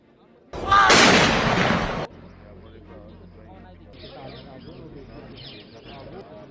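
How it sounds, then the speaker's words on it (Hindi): A single loud artillery blast from a 17-gun funeral salute booms for about a second and a half, then fades into a quiet outdoor setting with faint bird chirps and distant voices. "जनरल को 17 तोपों की सलामी दी गई"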